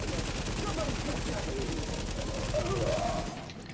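Rapid automatic gunfire from a weapon shot through windows in Tom Clancy's The Division, a dense sustained burst filling the clip before cutting off near the end.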